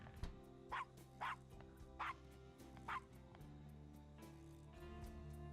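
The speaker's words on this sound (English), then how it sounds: "Oh, she's carrying a little yappy dog." A small yappy dog in the Gabriel Knight video game lets out four sharp, evenly spaced yips over a quiet background hum, with a couple of fainter yaps trailing after.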